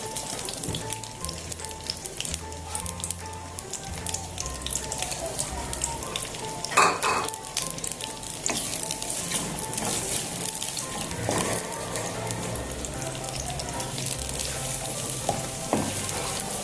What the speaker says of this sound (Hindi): अब इसमें हम ये चॉप किए हुए प्याज डालेंगे